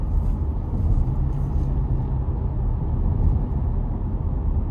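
A 2025 Toyota Tacoma SR5 mid-size pickup drives along with a steady, loud low road rumble and engine drone from inside the cab, the ride feeling rough, with no talking.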